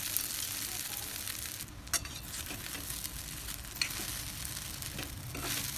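Sabudana and green chillies sizzle and crackle steadily in hot oil, a continuous close frying hiss with a few brief stirring knocks and no talk.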